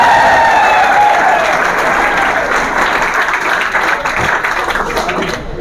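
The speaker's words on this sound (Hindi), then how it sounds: "एक साथ जोरदार तालियों से स्वागत किया जाए भाई" Sustained loud audience applause at a seminar at an academy in Bhiwani, Haryana, dense clapping filling the room throughout and easing slightly toward the end.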